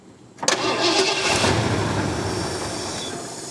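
A barn-find 1977 Ford 4x4 engine, fed fuel through the carburetor after sitting twenty years, cranks briefly and then catches, running loud and close with a rough, steady roar.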